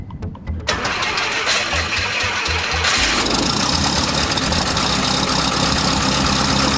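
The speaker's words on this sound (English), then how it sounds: "Start the engine." An aircraft engine jump-started with a RESCUE 2020 booster pack. The starter cranks for a few seconds, then the engine catches with a sudden jump in loudness and settles into a close, steady roar.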